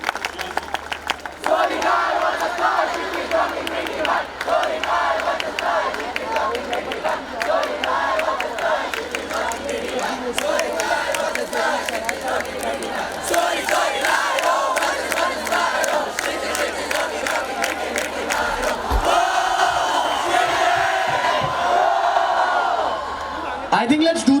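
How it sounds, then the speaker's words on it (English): A large crowd at a live Bollywood film promotion event cheers and whoops loudly and continuously, with shouting voices and bursts of noise swelling throughout, music faintly mixed in. "There's a Kshitij cheer."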